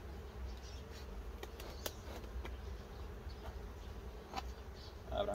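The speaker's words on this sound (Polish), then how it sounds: "No też pszczół jest." Steady buzzing of honeybees at a hive fills the air, a dense droning hum with occasional nearer insects passing by, no voices.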